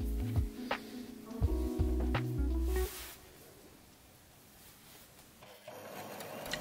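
A domestic sewing machine reverse stitching a hand-embroidered bag, short motor runs with changing pitch in quick bursts for about three seconds, then quieter room hum and a faint clatter.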